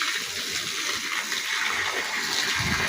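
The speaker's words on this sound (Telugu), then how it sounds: "ఖాళీగా ఎందుకని నాకు బోరు కొడుతుందని చెట్లకు నీళ్ళు పెట్టా" Steady rushing and splashing of water poured out in a continuous stream onto plants, fairly close, with no talking.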